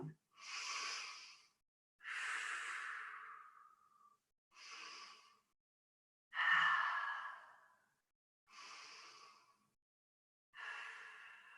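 Six slow, breathy inhales and exhales during shoulder rolls in an exercise session, near and airy, evenly spaced with silent pauses between them and no speech.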